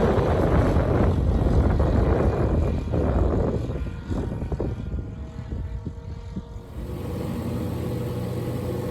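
A Rans S6 Coyote light airplane climbing at full throttle, its engine and propeller giving a loud, steady roar with heavy wind buffeting at first, then easing to a lower, even drone.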